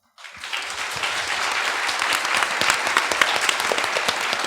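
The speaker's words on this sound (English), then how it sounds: "Big round of applause." Audience applause after a Japanese film screening Q&A for Uzumasa Limelight, a dense steady wash of many hands clapping that starts abruptly and holds at full strength throughout, close and loud.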